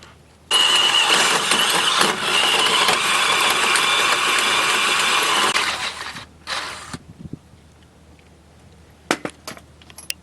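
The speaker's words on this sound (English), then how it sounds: "we'll mark out that hole, and we'll get that drilled" Power drill boring holes in metal while fitting a front tow hitch to a Dodge Ram, with a loud continuous whine for about five seconds, then a short second burst and a few clanks.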